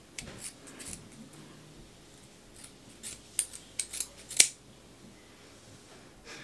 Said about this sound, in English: I'm gonna go ahead and cut the rest.